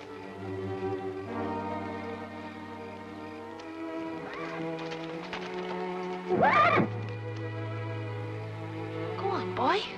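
A horse whinnies sharply over a sustained musical score, with a second shorter whinny near the end.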